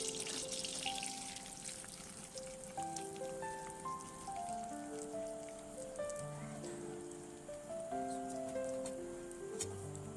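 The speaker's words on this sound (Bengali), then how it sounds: "আবার কড়াইয়ের মধ্যে আমি ঘি দিয়ে দিচ্ছি লাচ্ছাটা ভাজার জন্য।" Lachha, the fried sweet vermicelli for an Eid dish, frying in ghee in a kadai gives a steady soft crackle and hiss under prominent background music.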